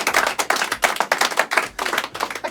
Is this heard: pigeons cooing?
no